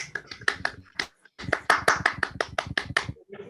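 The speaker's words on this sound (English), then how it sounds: "We can hear some clapping." Scattered clapping from a small online audience after a student dance at an opening ceremony, quiet, uneven claps in short bursts with a brief pause partway through.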